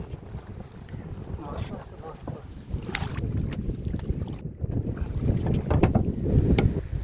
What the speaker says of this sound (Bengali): আজকে কিন্তু বন্ধুরা প্রচণ্ড ঢেউ